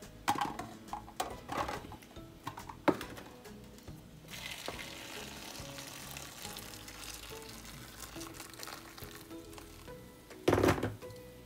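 Green salsa of tomato and serrano chile cooks in a pan with a soft, moderate sizzle and scattered clicks and knocks of utensils, plus a sharper clatter near the end.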